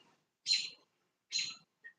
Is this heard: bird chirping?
yes